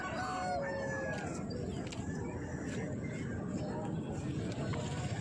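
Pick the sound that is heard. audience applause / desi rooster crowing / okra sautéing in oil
desi rooster crowing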